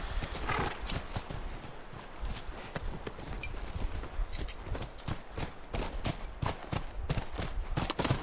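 Steady, rapid clip-clop of horse hooves in the video game The Last of Us, loud and close, with an occasional whinny mixed in over a continuous busy background.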